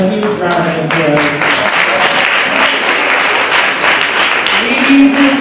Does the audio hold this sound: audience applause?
yes